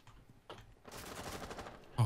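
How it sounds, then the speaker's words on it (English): Gunfire from the Rainbow Six Siege video game, a fast string of shots running close and steady for about a second, opening after a quieter stretch and ending on a sharp loud burst. "Oh, somebody's shooting in already."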